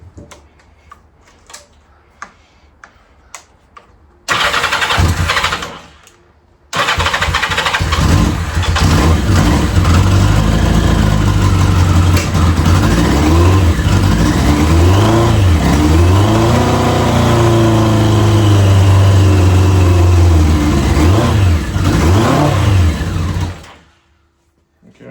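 A 1983 Yamaha XJ900 Seca motorcycle engine with choke on and a battery jumper cranks briefly, stalls, then fires and runs loud and close, revving up and down repeatedly before cutting off.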